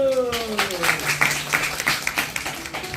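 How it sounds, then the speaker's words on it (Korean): An audience at a stage greeting after a matinee of the musical Dry Flower claps through a mock graduation ceremony, a voice talking briefly over the opening before scattered, moderately loud applause carries on. "축하드립니다. 박수."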